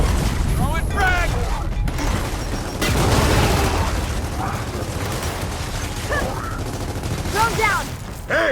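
A frag grenade is thrown in the video game Gears of War 4, with a burst of gunfire and an explosion-like boom amid clanking game mechanisms and sound effects. Voices talk throughout.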